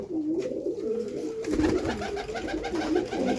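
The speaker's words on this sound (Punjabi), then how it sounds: "ਉੱਡਣ ਵਾਲੇ ਕਬੂਤਰ ਆ ਬਈ" Flying pigeons with black eyes and white beaks coo in soft, repeated rolling calls, close and fairly loud, with a steady murmur of birds behind them.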